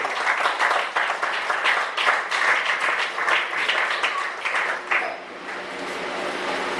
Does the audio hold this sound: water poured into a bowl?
no